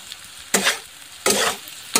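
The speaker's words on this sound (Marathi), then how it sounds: "आता मी याच्यामध्ये कोथिंबीर ॲड करते. थोडं छान मिक्स करून घेऊ आपण" Coriander is stirred into a dry egg curry frying in a pan, with three loud, close bursts of sizzling and scraping evenly spaced over a faint background hiss, no voices.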